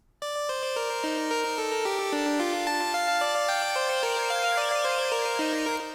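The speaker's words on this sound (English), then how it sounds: "That's the sound of like Kirby riding his Warp Star," Kirby riding his Warp Star, a chiptune sound effect from an old Kirby video game: bright square-wave tones stepping through a busy melody, loud and sustained for several seconds with no voices.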